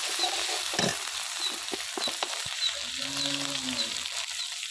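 Ginger, garlic and cumin paste sizzles in a pan with half-fried onions, heard as a busy, continuous frying hiss with stirring scrapes and clatter, fairly close, and no speech over it.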